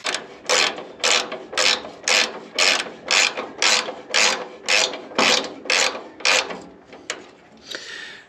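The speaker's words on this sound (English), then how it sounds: "So I'm not getting this fully tight right now, just enough to engage the nylon on the nylock nut" A nylock nut being run onto a bolt with a ratchet wrench gives about a dozen evenly spaced, loud, close ratcheting bursts of clicking, one after another, with a short scrape at the end.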